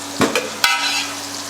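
Carrots and parsnips fry in butter in a pan, a soft sizzle broken by two or three sharp scraping stirs near the start, then easing to a gentle hiss, close with no voices.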